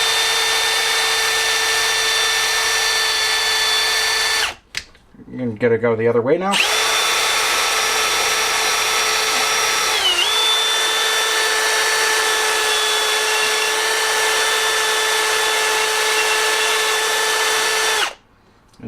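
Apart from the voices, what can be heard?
power drill lapping engine valves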